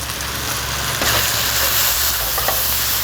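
Spice paste with chili powder and garam masala frying in oil for chicken tikka masala, a steady close sizzle with faint stirring scrapes and a low background hum, no talking.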